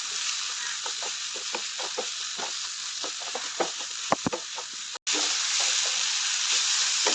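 Chopped onions and two tomatoes sautéing in a pan for egg masala curry, a steady loud sizzle with scattered stirring scrapes, a brief dropout, then the hiss resumes strongly.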